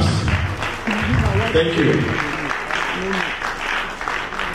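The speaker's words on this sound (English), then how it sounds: "Do some good claps." An audience at a book presentation on media and politics claps, a close burst of applause mixed with voices, including a short spoken phrase, that peaks early and then tapers to scattered clapping.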